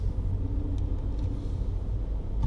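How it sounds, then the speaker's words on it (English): A lorry passes close by at a roundabout, its low engine rumble steady and continuous under general road noise, without any voices. "I'll let this lorry go first."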